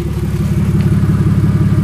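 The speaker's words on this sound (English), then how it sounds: "And let's check once again the biggest fan." The large cooling fan of a BMW E39 turbo spinning steadily, a loud close whirring drone with a constant pulsing hum and no talk.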